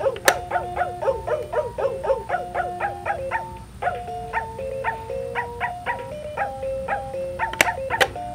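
Electronic puppy barks from a VTech Hammer Fun Learning Truck toy, a steady run of short, evenly spaced synthetic yaps with a tinny melodic tone, close and clear, plus a few sharp clicks near the end.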